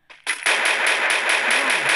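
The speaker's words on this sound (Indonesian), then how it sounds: "Tembakan langsung aja dari Rod" Rapid automatic gunfire in a battle royale video game tournament match, a dense, steady rattle of shots firing continuously and loudly after a brief lead-in, with no talking.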